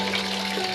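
Water pours steadily from a pipe into a bucket feeding a crayfish pond, a continuous close splashing flow with no voices.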